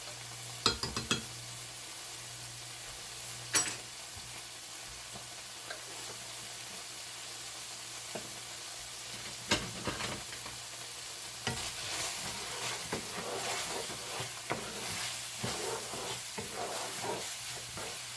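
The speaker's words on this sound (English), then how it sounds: "fry these onions and 1½ cloves of minced garlic." Onions and minced garlic frying in a pan, a steady sizzle with occasional clatter of stirring, close and alone with no voices.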